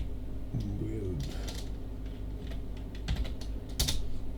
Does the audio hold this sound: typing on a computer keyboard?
yes